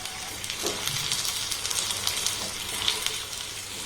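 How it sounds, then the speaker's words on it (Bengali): Egg snack frying in a shallow layer of oil while being turned, giving a steady, close, loud sizzle and crackle with soft scraping throughout and no talking. "এইভাবে উল্টে পাল্টে এগুলোকে আমি একটু হালকা লাল লাল করে ভেজে নেব"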